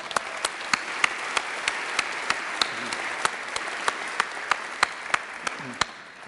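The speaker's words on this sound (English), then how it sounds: "Stand up, Chip, so we can give you a round of applause." A church congregation at Unity Temple applauds for a visiting former cameraman: a steady wash of clapping with a few sharp, evenly spaced claps standing out above it, holding at moderate loudness and easing off near the end.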